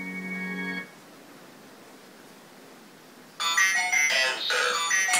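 A phone ringtone plays through a Bluetooth speaker built into an antique radio cabinet, a steady tonal ring at first, then after a quiet gap a louder, brighter burst of ringing melody fills the rest.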